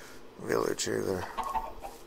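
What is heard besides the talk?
chicken clucking in a survival video game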